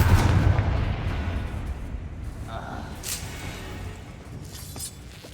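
A Bombarda blasting spell detonating in Hogwarts Legacy: a heavy, rumbling boom at the start that slowly fades into a lingering low roar, with a few fainter cracks afterward.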